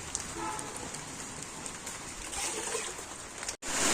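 Steady rain patters on a surface, a constant soft hiss with scattered drops and a faint bird call in the background.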